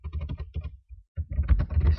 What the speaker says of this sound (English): Oh, excuse my typing.